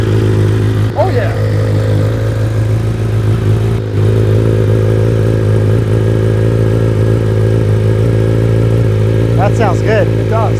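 A BMW M 1000 RR sportbike fitted with a new aftermarket exhaust idles with a steady, throaty drone at close range. Engine tones hold constant throughout, with faint talk and brief clatter over the top.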